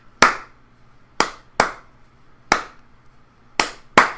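A single person claps a rhythmic dictation pattern in a music lesson: six sharp, close hand claps in an uneven rhythm, each one ringing briefly before dying away into near silence.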